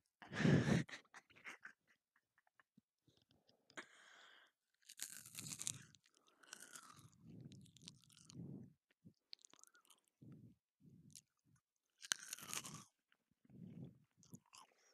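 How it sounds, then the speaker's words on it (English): Close, loud crunching bites followed by repeated wet chewing of something crisp, in irregular bursts with quiet pauses between. "It's so salty and crunchy."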